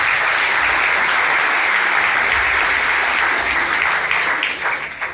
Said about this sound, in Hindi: मैं न्याय संगत तालियों की उम्मीद करता हूं।